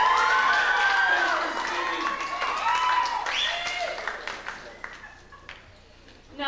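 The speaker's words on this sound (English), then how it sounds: "I think we all owe a big round of applause to Patty Simcox and her committee" Applause from a school audience at a high school production of Grease breaks out under a voice and other vocal sounds, strong at first and then thinning into scattered claps before it ends.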